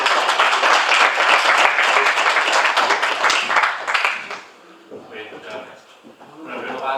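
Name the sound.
audience applause for speaker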